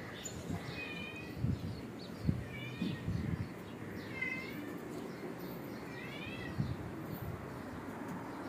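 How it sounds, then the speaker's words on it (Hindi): Several cats meow in turn, a handful of short drawn-out cries spaced a second or two apart over quiet background noise. "तो यहाँ मेरी बिल्लियाँ भी आवाज़ें दे रही हैं।"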